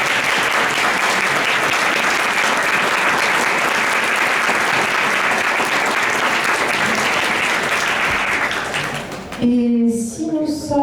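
Wedding guests at an outdoor secular ceremony clap together in a dense, sustained round of applause lasting several seconds, then it stops abruptly as a voice begins speaking.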